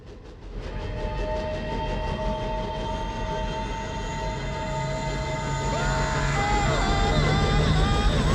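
A train rumbles past loudly, its clattering wheels and rushing noise building steadily, with squealing metallic tones rising toward the end.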